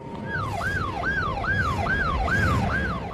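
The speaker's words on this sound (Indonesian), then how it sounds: "mereka dibuat kaget setelah mendengar suara sirine polisi yang mendekat ke hanggar tersebut" A police siren approaching, wailing and sweeping up and down in steady repeated cycles, loud and sustained over rumbling traffic.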